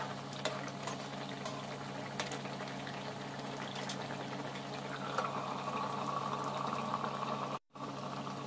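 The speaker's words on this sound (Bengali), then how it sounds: "জলটা ফুটে উঠেছে" Water bubbling at a boil in a cooking pot, a continuous soft roil with occasional pops, steady and fairly quiet, cutting out briefly near the end.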